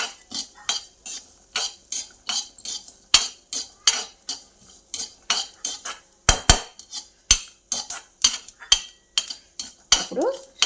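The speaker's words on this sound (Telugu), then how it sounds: "పల్లీలు వేగినాక 1 స్పూను నువ్వులు, ఇవి వేడికే వేగిపోతాయండి" Peanuts and sesame seeds dry-roasting in a kadai, stirred with a metal spoon: steady rhythmic scraping strokes roughly every half second, close and clear, with a few sharper clanks against the pan near the end.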